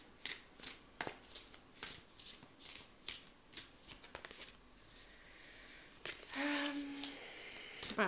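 Oracle cards are shuffled by hand before one is drawn, with a rapid, rhythmic series of close riffling and slapping bursts, then a brief tonal chime and a few final taps.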